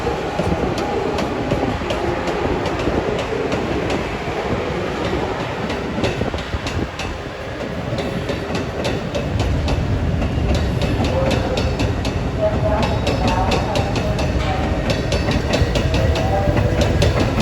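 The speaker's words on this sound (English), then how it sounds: "Got two more Amtraks that'll be leaving for New York right behind them." An Amtrak passenger train rolls past close by in the Washington DC area, a loud steady rumble with repeated clickety-clack wheel beats over the rails, growing heavier toward the end.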